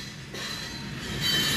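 A heavy CSX freight train loaded with phosphate rolls past at Bradley Junction, Florida, with a steady, moderate rumble and faint high wheel squeal that grows slightly louder.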